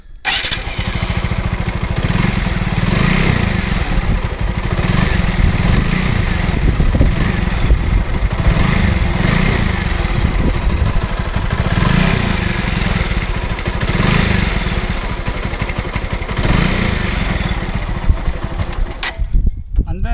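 A motorcycle engine runs loud and close, thumping with a rough, steady beat and rising in several rhythmic revving surges, a faintly loose rattle in the sound, then cutting off near the end.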